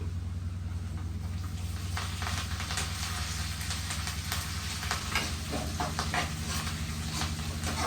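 Onions and curry leaves sizzling in oil for bitter gourd fry, a steady close crackling sizzle with occasional louder pops and stirring scrapes, under a low hum.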